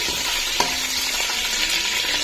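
Biryani mixture with fresh mint and green chillies being stirred in a pot for Hyderabadi chicken dum biryani, a steady sizzling scrape with one sharper clink of the spoon, close and fairly loud.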